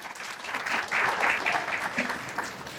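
An audience at a women's empowerment event breaks into steady applause, a dense crowd of clapping hands that swells slightly and holds for a few seconds.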